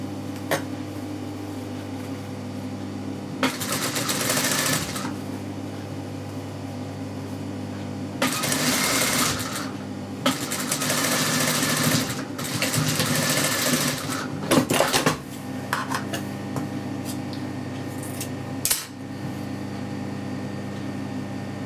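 A sewing machine stitches the seams of a children's top in several steady, close runs of whirring needle action, separated by short pauses, with no talking.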